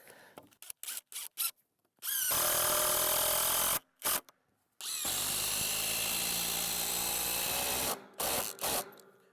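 A cordless screw gun drives screws into 2x6 boards outdoors in the woods: a few quick trigger bursts, then two long whirring runs, then more short bursts, close and loud.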